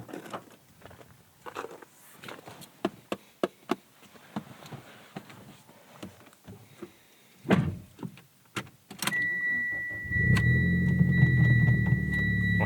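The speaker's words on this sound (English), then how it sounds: "Oh, you hear that rumble? You can tell that is not a stock exhaust." Aftermarket exhaust on a Mitsubishi Lancer Evo X GSR, rising from scattered clicks into a steady, loud low rumble that holds through the final seconds alongside a faint high whine.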